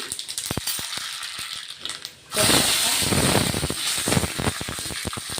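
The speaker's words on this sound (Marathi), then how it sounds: "आता आपण फोडणी देऊन घेतोय. बघा, तेल गरम झालेलं आहे. मोहरी," Mustard seeds hit hot oil for a phodni tempering in a home kitchen, starting after a stretch of quiet clicks and taps: a sudden loud, steady sizzling hiss that carries on to the end, with scattered crackles and pops.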